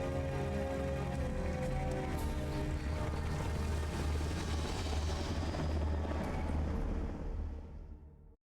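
A Hind helicopter from Metal Gear Solid flying through bad weather, a dense, continuous rotor and engine roar that holds loud and steady before cutting off abruptly near the end, with no talk.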